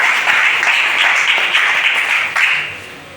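A church congregation breaks into sustained applause to acclaim Shaddai during worship, a dense, steady wash of clapping that holds for about two and a half seconds and then thins out and fades.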